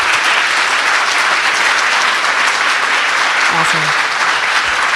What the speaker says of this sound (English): can everyone give Karen a big round of applause?